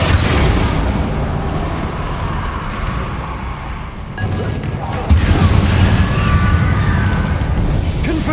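In Hogwarts Legacy, a Bombarda spell explosion bursts with a loud, broad blast amid ongoing combat rumble, followed by a second heavy impact and crashing debris.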